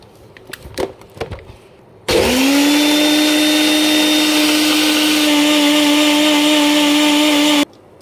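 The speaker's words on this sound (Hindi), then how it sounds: "अब इसको हम मिक्सी कर लेते हैं" Some brief knocking and handling noises, then a loud blender switches on and whirs steadily for several seconds, grinding a drink paste, before cutting off abruptly.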